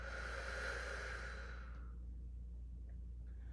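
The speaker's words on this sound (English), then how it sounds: "Deep breath in. Deep breath out." Deep, slow exhale during a hypopressive breathing exercise, a long breathy rush of air that fades out after about two seconds, leaving quiet room tone.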